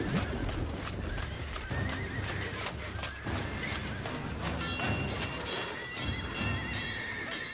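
Horses neigh and whinny repeatedly over galloping hooves and a dense battle din, dying war horses wounded in combat with several loud, overlapping cries filling the scene continuously.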